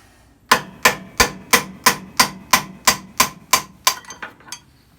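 About a dozen sharp, evenly spaced hammer blows strike a 2 1/8 inch driver to knock out a worn steering bushing on a John Deere tractor, ringing close and loud before a few lighter final taps.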